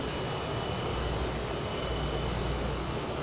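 A Lockheed T-33 jet in Microsoft Flight Simulator roars steadily through its takeoff, with a constant, loud, broadband engine rush that holds level without pause.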